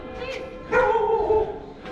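A big dog on a hilly street in Porto lets out a single deep bark with a short whine, fairly close and standing out over the outdoor background noise.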